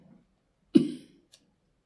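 One single cough, close and fairly soft, breaks an otherwise quiet moment, followed by a faint tiny click.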